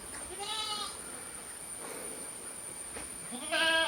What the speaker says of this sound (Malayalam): ആട് രണ്ട് പ്രസവം കഴിഞ്ഞതിന് അതിൻ്റെ ഒരു പടക്കുട്ടി ഇതാ നല്ലൊരു പടക്കുട്ടി